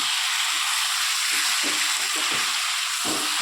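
Chicken frying in a pan for a simple home-cooked curry, giving a loud, continuous sizzle with soft scraping and shuffling as the pieces are stirred.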